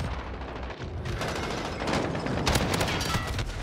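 Bursts of MP5 submachine gun fire in the shooter game Modern Warfare crackle in quick rapid volleys, fairly faint and distant-sounding, with no talk over them.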